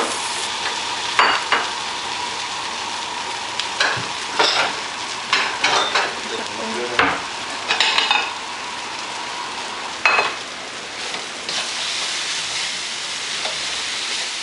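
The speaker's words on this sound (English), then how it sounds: "So you just do a quick stir before you serve." Mee goreng noodles with prawns sizzling in a hot pan as they get a quick stir before serving, with steady frying hiss broken by a series of sharp scraping and clattering stir strokes up close.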